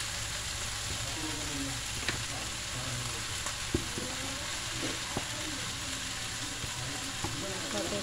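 Kneaded milkfish (bangus) filling frying in a pan for bangus relleno, a steady sizzle with scraping and stirring clacks of a utensil, a faint voice murmuring underneath.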